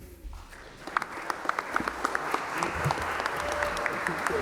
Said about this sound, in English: Can we get another applause for our facilitators, Xiomara and Amari?